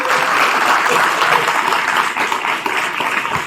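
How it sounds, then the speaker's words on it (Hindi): Loud, dense applause from a crowd at a Republic Day program at a village government school, sustained clapping that continues throughout with no talking over it. "एक बार जोरदार तालियां"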